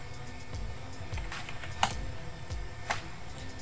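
Someone types on a computer keyboard while working at a command line to upgrade a Juniper EX3400 switch, giving soft, close clicking keystrokes with a couple of sharper taps, quiet and irregular.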